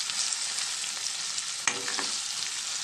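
Food seasoned with turmeric and salt fries in a pan for a curry, making a steady, close sizzle with one sharp knock of a utensil midway and no talking.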